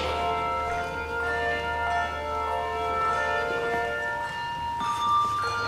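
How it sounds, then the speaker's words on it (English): Church bell choir ringing handbells at an Easter Sunday service, sustained overlapping ringing tones that blend and decay, with new strikes layered in, steady and moderately loud inside the church. "You're now hearing the bell choir."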